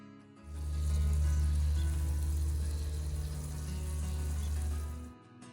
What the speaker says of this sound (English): let's add some meat and cook it up